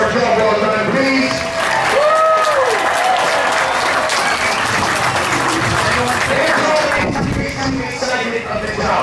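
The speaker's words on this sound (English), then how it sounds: "let's take another round of applause for our show" A large outdoor crowd at a Renaissance festival full-armoured jousting show claps and cheers in loud, continuous applause while a voice talks over it, with faint horse hoofbeats.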